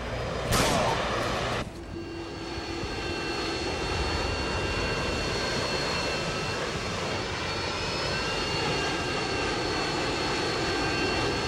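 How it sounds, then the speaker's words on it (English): A Harrier jet roars overhead in the video game Modern Warfare 2, a loud sustained engine rush following a couple of sharp bursts at the start, under game radio chatter. "Friendly Harrier's inbound."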